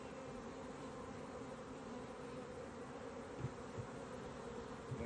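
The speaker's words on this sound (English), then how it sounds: "The bees will just fly back to the hive, okay?" Honeybees buzz steadily around a hive frame just shaken free, a dense, even swarm drone with a few closer fly-bys rising briefly above it; no voices.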